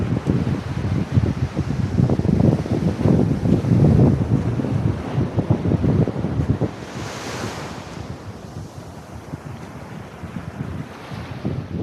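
Ocean surf pounds the rocks at Varkala Black Beach in Kerala, a loud, continuous wash of crashing waves with heavy wind buffeting the microphone, easing slightly toward the end.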